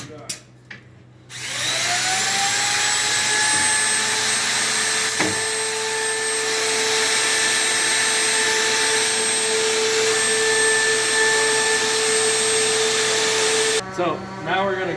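An air-powered machine cutting hinge spacing into a door runs as a loud, steady whine for most of the stretch, starting and stopping abruptly.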